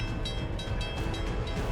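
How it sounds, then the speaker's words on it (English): CN 406 westbound freight train passes through snow, a continuous heavy rumble of carriages with rhythmic clicking and squealing overtones, fairly close and steady throughout. "The heavy carriages glide past with a powerful roar"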